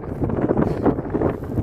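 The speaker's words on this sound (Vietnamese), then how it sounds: "Gió ở đây rất là to." Strong wind gusting across an open kite-flying field, a loud continuous buffeting roar of wind against the microphone throughout, with no voices.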